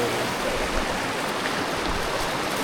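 Continuous rushing water close by while wading through a stream on the Havasupai Falls hike, a steady broadband wash of flowing water with no voices.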